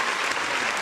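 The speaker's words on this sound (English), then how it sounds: "We got to give them a round of applause for that." A short burst of crowd applause plays as a sound effect, with dense, even clapping that stays at a steady level through under a second.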